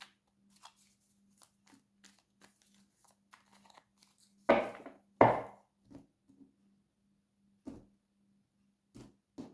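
Tarot cards are shuffled by hand in a quiet room, with scattered soft taps and flicks, two louder riffling bursts in quick succession, and a few more faint card sounds afterward.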